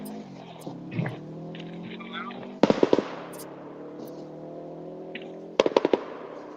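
A rally car's engine backfires on a forest stage in two sharp bursts of rapid pops, loud and close. Between the bursts an engine hum drones on and a voice talks faintly.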